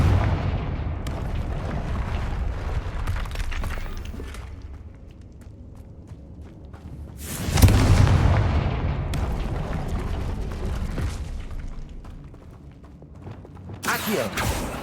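Confringo fire spell explosions in the Hogwarts Legacy video game: loud, booming blasts and rumbling fiery bursts, one big burst near the middle and another at the end, amid continuous game sound and footsteps.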